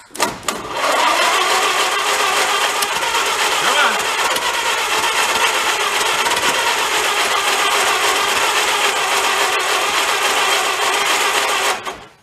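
An old, ratty Ford truck engine cranks and catches, then runs loud and rough with a steady raspy roar for about ten seconds before cutting off.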